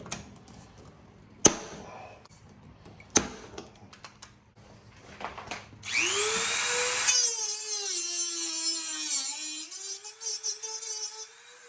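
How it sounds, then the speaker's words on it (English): A pop rivet is set through an ATV fender with a washer on the blind side: two sharp, isolated snaps come first, then a loud, steady, high-pitched mechanical whine runs on for several seconds nearby. "go ahead and just install the pop rivet there and put the washer on the back side"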